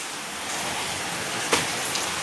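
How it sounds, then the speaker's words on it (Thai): Steady rain hisses as a soft, even wash of noise, with one brief louder tap partway through, no talking. "ขออภัยเสียงฝนด้วยนะครับ"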